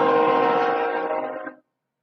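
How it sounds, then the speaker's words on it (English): A loud, sustained train horn blares close by for over a second, then cuts off abruptly into silence. "Train."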